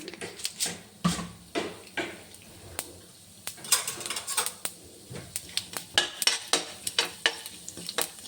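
Chana dal and urad dal frying in oil in a pan, a soft continuous sizzle under repeated clinks and scrapes of a utensil stirring against the pan.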